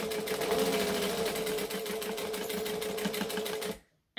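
A sewing machine bastes fabric for a laptop case with a fast, even mechanical chatter of needle strokes that runs steadily up close for several seconds and then stops sharply, with no voices.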